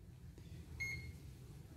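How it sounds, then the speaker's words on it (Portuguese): One short electronic continuity beep from a multimeter testing an electric motor coil, a thin high tone lasting about a third of a second, over a quiet low hum. "Ela deu bip e deu continuidade com essa."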